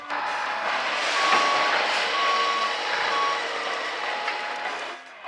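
A cartoon truck hauling trees gives a steady engine rumble, with intermittent high reversing beeps over it, and fades out near the end.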